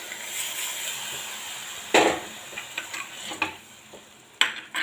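Lentils (parippu) going into a pan of curry and being stirred, a soft steady scrape and sizzle punctuated by a few sharper knocks of the spoon against the pan, close and moderately quiet.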